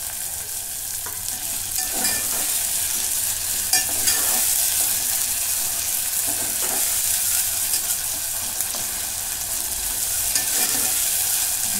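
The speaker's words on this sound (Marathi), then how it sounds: "आता हे पण परतून घेते. याच्यात टोमॅटो टाकून घेते." Tomatoes sautéing in a pan for chicken biryani, a steady sizzle with scraping stirs at intervals, close up and without talk throughout.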